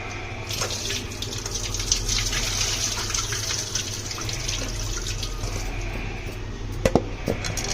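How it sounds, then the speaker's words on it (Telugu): Tap water runs steadily as brinjals are washed in a kitchen sink, a continuous close splashing gush with no talk and a few sharper clinks near the end. "ఈ వంకాయల్ని ఇట్లా మంచిగా కడుక్కోవాలి"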